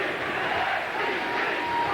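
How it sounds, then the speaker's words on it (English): A football stadium crowd at a 1990 Arkansas vs Houston game chants "SEC", a dense, continuous roar of many voices filling the air at a steady level. "The crowd is chanting SEC."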